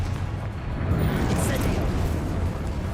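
A Confringo explosive spell cast in the Hogwarts Legacy video game sends out a loud, steady, rumbling blast that roars for a few seconds, with a voice heard alongside.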